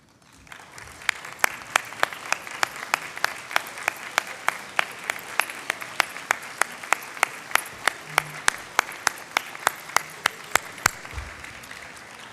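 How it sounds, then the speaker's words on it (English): An audience at the University of Maryland student leadership awards ceremony applauds, with crisp, evenly spaced loud claps standing out above a softer, sustained bed of crowd clapping for over ten seconds. "please stand so that the rest of us can applaud you"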